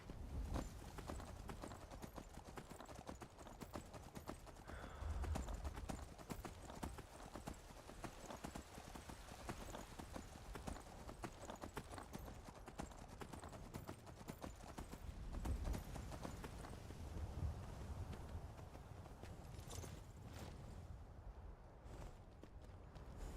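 Steady clip-clop of horse hooves walking on a hard surface in the video game Skyrim, continuous and fairly close, with a faint ambient background throughout.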